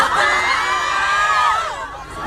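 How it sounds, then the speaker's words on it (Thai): A crowd shouts a brief cheer chant at a concert-style event in Thailand, many voices loud and close, rising together for about two seconds before easing off. "เป็นเหมือนคำบูมสั้นๆเวลาไปงานต่างๆคอนเสิร์ตต่างๆนะครับจะ จะตะโกนขึ้นมาอย่างนี้เพื่อให้กำลังใจเรา"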